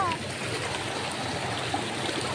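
Strong stream water rushing steadily and loudly nearby, a dense continuous wash of flow with no breaks.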